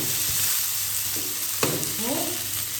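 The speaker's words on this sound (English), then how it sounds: "Stir it sometimes, just make sure that it's not burning." Vegetables for a vegetarian paella fry in a pan, a steady close sizzle with a sharp scrape and rustle as they are stirred, no speech.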